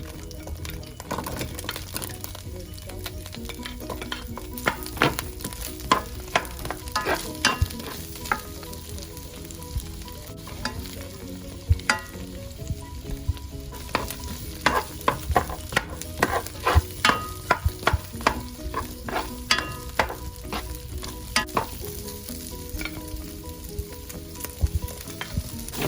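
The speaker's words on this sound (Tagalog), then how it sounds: "and stir fry the onion" Onions stir-frying in olive oil, soy sauce and extra oil, a steady close sizzle broken by frequent sharp scrapes and clacks of a utensil stirring the pan.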